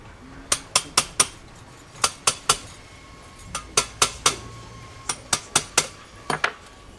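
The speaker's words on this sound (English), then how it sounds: "I'm going to try with my chasing punches to knock this dent out" Chasing punches struck by a silversmith knock a dent out of a silver piece: crisp, ringing metallic taps close by, in quick clusters of three or four with short pauses between, and no voices.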